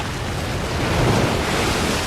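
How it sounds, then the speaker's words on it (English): Waves crash and smash against rocks near a place called the Witch's Cauldron, a loud continuous roar of surf with gusting wind building toward the end. "Waves are smashing and crashing on the rocks up there."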